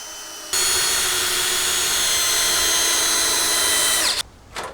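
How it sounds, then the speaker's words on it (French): A power drill drives stainless steel screws into pre-drilled wood while building a suspended treehouse: one loud, steady whine runs for about three and a half seconds, then cuts off with a brief final burst. "puis fixe, puis raccorde avec des vis en acier inoxydable"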